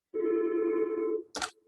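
Indoor telephone ringing in a room, one sustained electronic tone lasting about a second, followed by a short click.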